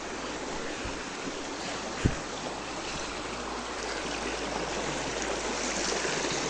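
A river stream flowing in rural mountain country makes a steady, broad rushing wash of water, with one brief knock partway through and no voices.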